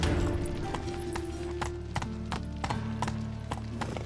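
Horse hooves clip-clop at a steady trotting rhythm in The Witcher 3: Wild Hunt, a string of sharp knocks over a sustained musical score.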